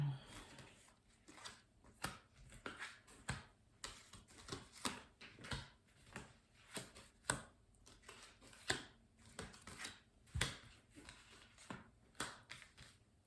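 Tarot cards being cut and handled during a reading, a quiet run of soft card taps and brief shuffling flicks in an irregular rhythm, close by with faint talk in between.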